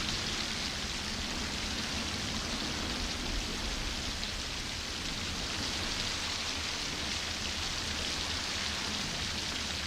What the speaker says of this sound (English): Has it stopped raining since I've been here?